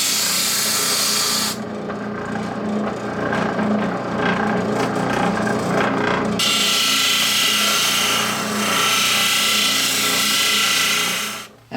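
A power sander runs loudly and steadily over the inside of a wooden bandsaw box, rounding its corners, with the abrasive hiss shifting in tone as the tool moves, then cutting off at the end.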